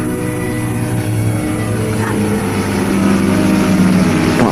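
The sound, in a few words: aircraft engine as plane tries to land in war film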